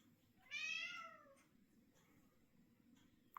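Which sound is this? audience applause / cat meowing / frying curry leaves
cat meowing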